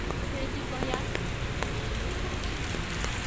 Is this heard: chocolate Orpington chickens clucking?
no